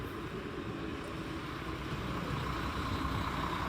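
Train pulling into a railway station in Germany: a steady, loud rumble of wheels and engine fills the whole stretch with a continuous broad roar, no pauses and no voices.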